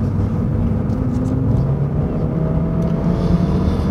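A Lexus IS200t engine drones steadily from inside the cabin, in sport mode with the transmission in manual mode, its pitch shifting slightly as the car pulls forward under power.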